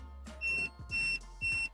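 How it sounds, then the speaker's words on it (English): An Aventon Abound SR e-bike's anti-theft alarm sounds three short, evenly spaced electronic beeps, fairly quiet and high-pitched, with no talk over them. "Not a super loud alarm."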